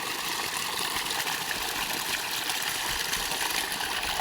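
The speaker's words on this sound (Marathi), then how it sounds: "हे विहिरीचं पाण्याचा पाईप आहे" Water pours steadily from a well's pipe out in a farm field, a continuous broadband rushing gush that stays loud and even throughout, with no voices over it.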